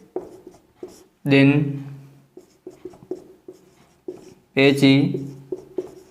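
A teacher writes numbers on a board during a class 6 maths lesson, with short scratchy strokes and taps coming in bursts between stretches of his speech.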